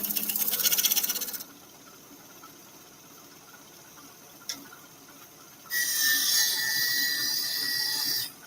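A woodturning tool makes an anchored bevel cut into wood spinning on a lathe. A loud, hissing cutting pass lasts about a second and a half, then a quiet gap with one brief click, then a second long, steady pass.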